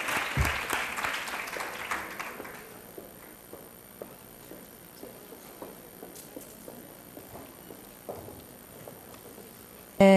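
Audience applause at an academic presentation of socio-educational projects, loud and dense for the first two and a half seconds, then thinning into scattered claps that trail off through the rest.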